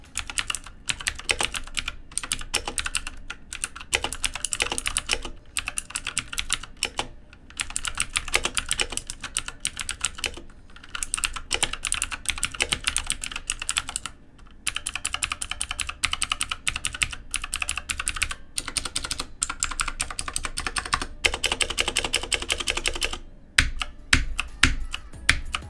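Continuous fast typing on an Aukey KM-G12 mechanical keyboard with Cherry MX Blue-like switches, loud and close, sharp snappy keystrokes with only brief pauses.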